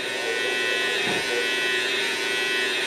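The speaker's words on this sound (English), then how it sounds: "Now for the vertical bow, we slightly turn the clipper to the side, and we just cut." An electric hair clipper hums steadily throughout, close and loud, as it is turned sideways to cut a vertical line during a low taper fade on natural hair.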